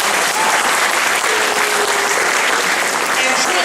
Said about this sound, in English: let's give these ladies an applause.